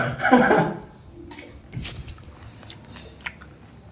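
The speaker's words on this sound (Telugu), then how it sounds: "ఎట్లా తింటుండే చూడండి." Someone chews a mouthful of mandi close by, with moist bites and crunches that are loudest at first and then settle into softer chewing and small clicks.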